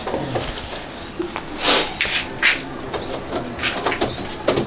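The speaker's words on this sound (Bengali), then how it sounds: "এই দেখুন মাদি পায়রা, এটা" A female pigeon in a breeding loft at Icchapur gives soft, brief coos several times, mixed with light rustling and faint wing movement nearby.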